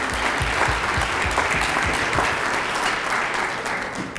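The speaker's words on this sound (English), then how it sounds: "Let's give them a big round of applause" Steady applause from the guests at an annual business gala fills the hall, dense and continuous with a few sharper individual claps near the front, and no one talking over it.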